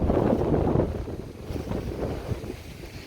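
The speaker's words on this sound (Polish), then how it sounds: "Jest silny wiatr." Strong storm wind roars and buffets the microphone in a steady, low rumbling gust that eases slightly midway, with no voices, outdoors near an apartment block in Poland.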